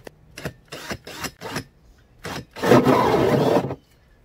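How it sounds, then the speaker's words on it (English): Short bursts of grinding at first, then a louder, steady rasping cut lasting about a second, close by, as a hole saw drills through an exterior wall. "I'm gonna go ahead and drill through here."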